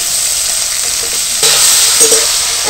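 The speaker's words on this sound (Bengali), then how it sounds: "একসঙ্গে নাড়াচাড়া করে একটু ভাজা ভাজা করে নেব" Capsicum, tomato and green chilli being stir-fried in a pan, a steady bright sizzle with a louder burst of frying and a few spoon scrapes partway through, close and with no talking.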